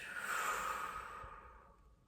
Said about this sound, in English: breathing in through the nose, exhale through the mouth